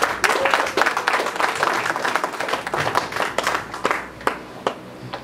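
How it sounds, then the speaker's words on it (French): A room full of people in a church claps steadily, a dense patter of applause that stays lively before thinning toward the end. "applaudissements."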